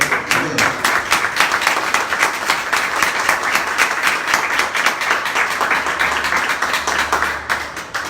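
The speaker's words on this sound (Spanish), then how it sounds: "Démosle un aplauso al Señor." A church congregation claps loudly and steadily for a full stretch, the dense rhythmic applause close and continuous with no talking over it.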